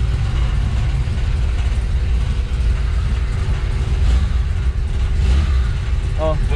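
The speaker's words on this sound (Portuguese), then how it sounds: "Agora esse é o motor mais liso que tem. Ele é silencioso, né?" Chevrolet Opala engine idling smoothly inside a garage, a steady low rumble at constant level throughout, with people talking faintly over it.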